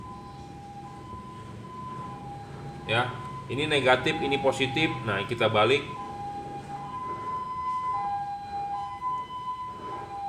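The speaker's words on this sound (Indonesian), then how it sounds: "ada suara sirine" An electronic siren alternating steadily between high and low tones, fairly close, with someone talking over it for a few seconds midway.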